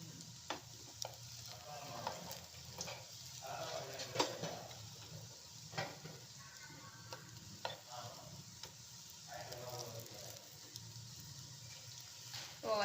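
Potato cutlets sizzle steadily in a pan of hot oil, with a soft continuous frying hiss broken by occasional clicks and scrapes as pieces are turned over; no voices are heard.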